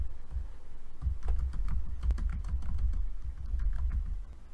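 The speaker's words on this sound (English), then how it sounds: "if I type" A computer keyboard is typed on steadily, a stream of soft dull keystrokes heard up close with a low background rumble.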